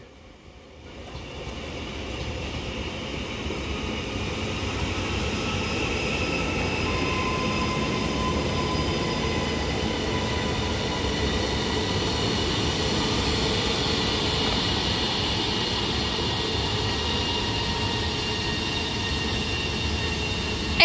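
A double-unit Class 331 Northern electric train pulls out of Newton-le-Willows station, its hum and rumble rising in the first two seconds and then holding as a steady drone with faint whining tones, heard alone without speech.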